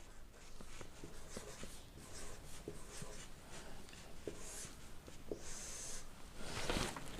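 Pen or marker writing out a division sum on a board during a police constable exam maths lesson, a steady run of soft scratchy strokes with small taps, fairly close, with no talking.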